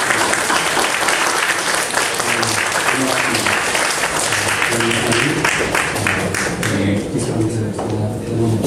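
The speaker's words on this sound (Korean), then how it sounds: "네, 그리고 뜨거운 박수." Church congregation giving loud, enthusiastic applause, dense clapping close by that carries on for several seconds with a voice speaking beneath it.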